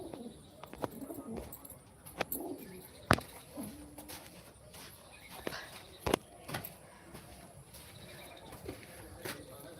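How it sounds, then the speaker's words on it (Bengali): Soft, low pigeon coos among scattered taps and rustles, with a quiet voice now and then in the background. "পায়রাগুলো মারমার করছে দেখো"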